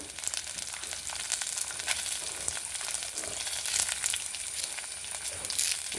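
Mustard seeds and curry leaves sizzling in hot oil with lentils and fenugreek in the pan, a loud, steady crackling hiss with popping seeds, close and continuous, no talk.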